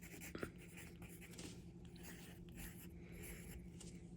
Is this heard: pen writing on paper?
yes